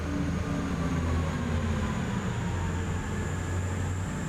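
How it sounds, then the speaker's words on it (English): A passing train in Train Simulator Classic rolls by as a steady, loud low rumble with a faint high whine, sounding continuous with no talk. "There it is, look, see, that's a train."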